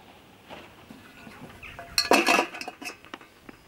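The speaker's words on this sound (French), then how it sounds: "cet accessoire est vraiment génial pour retirer les grilles sans se brûler" Metal grill grates on a Cobb Premier portable barbecue are lifted off with a handling accessory, giving light metallic clinks and rattles that build to a brief, brighter clatter midway, close by, with no talking.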